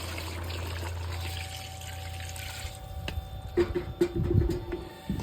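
Water pours and splashes into a pot for gumbo stock, steady at first then sloshing and gurgling more loudly near the end, close by with no talking.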